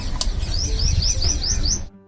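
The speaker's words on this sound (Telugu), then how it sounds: "అందంగా కిలకిలా ఆర్సే పక్షులతోటి" A bird in a home vegetable and flower garden sings a clear, evenly spaced series of about six rising chirps, close and distinct over low background noise, then falls quiet.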